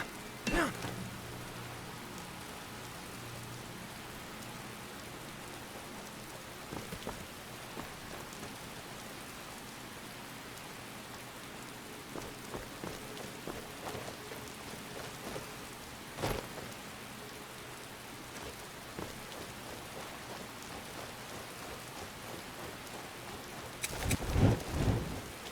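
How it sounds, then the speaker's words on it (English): Steady rain falls in Skyrim with faint rumbles and a few sharper cracks of thunder, the loudest near the end, all at a low, distant level with no talking. "With the rain, it's really dark out."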